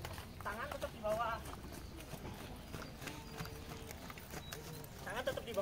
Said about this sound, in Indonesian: Lagi belajar trotting. Joggingnya kuda lah.